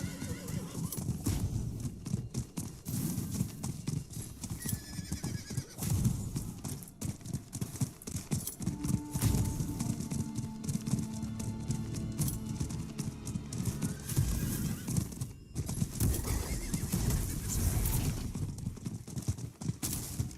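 A horse gallops in Diablo IV with a rapid, continuous clip-clop of hooves up close, a whinny partway through, and busy game sound effects layered over the ride.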